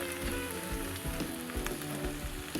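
Ghee sizzles in a hot pan while an egg and tomato bharta cooks with mustard oil, a dense, steady crackling fry close up with no talking.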